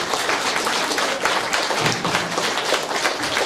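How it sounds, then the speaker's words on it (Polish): Audience applause at a kindergarten nativity play, dense steady clapping from many hands filling the room without a break, fairly loud and close. "Jeszcze raz duże brawa."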